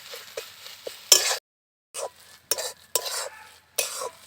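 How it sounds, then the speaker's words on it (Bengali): Spoon scraping and stirring mustard paste through mankachu in a cooking pot, with some sizzling: several bursts of scraping and clinking against the pan, close and fairly loud, separated by short silent gaps, with no talk. "সর্ষেটা দিয়ে একটু নেড়ে চেড়ে নিলাম।"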